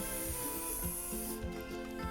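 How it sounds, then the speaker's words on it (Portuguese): Spray adhesive hisses continuously from a can onto fabric and felt, a close, steady spray that stops near the end, leaving faint handling noises. "Vai passar a cola spray, que eu uso essa cola spray,"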